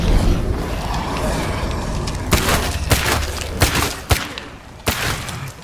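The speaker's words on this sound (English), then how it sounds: "Okay, I'm shooting it." Sharp separate gunshots ring out in State of Decay 2, spaced irregularly over a steady rumbling game background, with each report clear and fairly loud.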